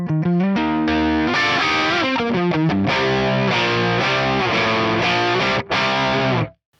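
Heavily distorted electric guitar through an Axe-Fx III, switched to the dirty tone by changing pickups: loud sustained chords and picked notes ringing continuously for several seconds, then cutting off abruptly at the end.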